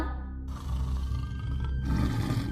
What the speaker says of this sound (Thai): เสียงคำรามดังขึ้นอีกครั้ง